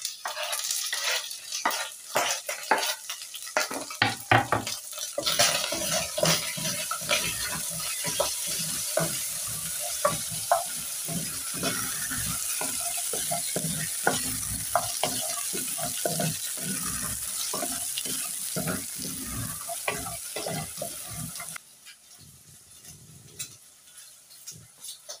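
Spring onion stirred and frying in a pan, dense rapid scraping and clattering strokes over a sizzle, fading to quieter sparse sounds near the end.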